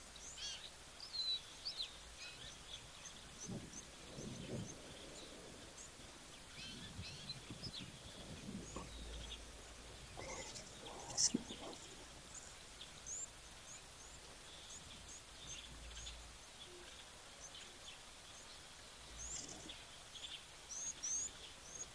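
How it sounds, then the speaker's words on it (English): Faint chirps and calls from a couple of birds at an open waterhole, scattered and distant over steady outdoor rustling and hiss. "You hear a couple of birds."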